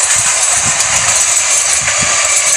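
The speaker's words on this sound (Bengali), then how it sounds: "ট্রেনটা যাক" A train passes at Bidhannagar Road railway station as a loud, steady rumble and rattle that fills the whole moment without voices.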